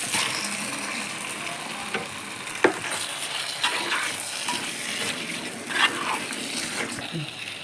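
Marinated prawns fry in a pan with softened tomato, giving a steady close sizzle with a few stirring clanks and scrapes throughout.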